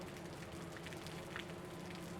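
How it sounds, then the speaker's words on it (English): Steady, dense rain hisses throughout in the video game Osiris: New Dawn, an even wash of close patter with no pauses. "It's raining."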